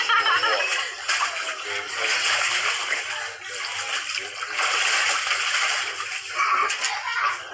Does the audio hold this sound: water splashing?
yes